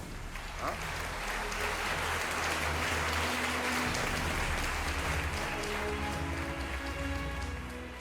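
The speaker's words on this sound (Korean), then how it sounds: "환단국에 박수를 한번 쳐주세요" Dense, steady clapping from an audience at a university lecture-concert on ancient Korean history, filling the room for about eight seconds with an even, rain-like wash and no clear voices over it.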